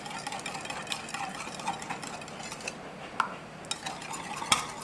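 Steady wet stirring of batter in a bowl for a homemade Popeyes-style chicken sandwich, with continuous swishing and occasional light utensil clicks against the bowl, close and fairly quiet, no talking.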